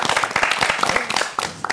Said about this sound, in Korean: 오늘 박수 한 번만 해줘.